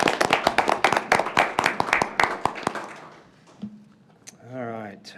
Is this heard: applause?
yes